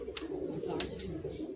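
Desi pigeons coo softly in a cage, a low rolling murmur with a few brief brighter calls cutting through at short intervals.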